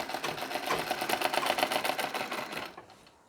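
A sewing machine stitches a Nauvari saree in a fast, even run of needle strokes, close and continuous, then stops abruptly near the end.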